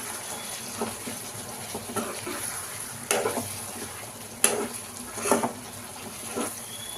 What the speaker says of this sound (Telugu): ఇది వేసుకున్నామండి కొంచెం కొత్తిమీర్ ఒకసారి కలుపుకుందాం